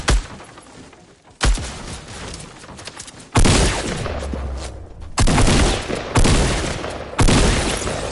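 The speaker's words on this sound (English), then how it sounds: "there's someone shooting at him" Loud bursts of gunfire from a Fortnite match ring out in several separate volleys, sharp cracks and rapid fusillades close by with short pauses between them.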